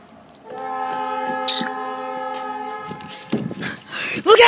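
A train horn sounds a sustained multi-tone blast for about two seconds, followed by rumbling rail noise and scattered clatter in a chaotic outdoor scene.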